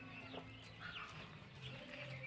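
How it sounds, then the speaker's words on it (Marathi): A hen clucks in short, repeated bursts at moderate distance, with a steady low background hum and no speech. "अशी हुशार कोंबडी आहे."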